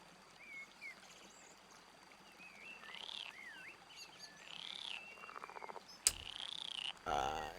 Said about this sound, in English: The rocky bank smells fresh and is filled with the sound of frogs, insects, birds